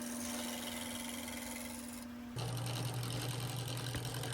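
Wood lathe spinning while a table leg for a checkerboard table is turned, a continuous steady motor hum and whir with a shift in pitch partway through as the tool engages, close and alone without speech.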